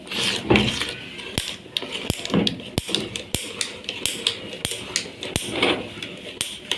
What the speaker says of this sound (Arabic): هقلب في اتجاه واحد عشان بس الكيكه